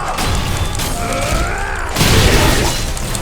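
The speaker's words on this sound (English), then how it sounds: "that explosion definitely helped" A loud, dense blast bursts out in the Killer Is Dead video game, a booming crash with clattering mechanical debris, swelling sharply near the two-second mark over an already busy, noisy game mix.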